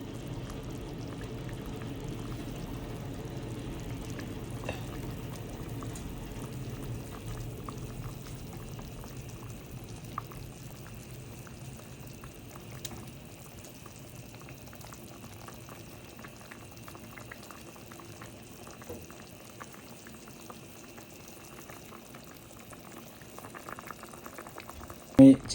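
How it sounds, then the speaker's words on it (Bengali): Hilsa fish pieces simmer with ridge gourd in a pot, giving a faint, steady low bubbling close by that continues throughout with a few small clicks and a sharp knock at the end. "আমি চিচিঙ্গার ভিতরে মাছগুলো ছেড়ে দিয়েছি, ওটা সেদ্ধ হয়ে গেছে"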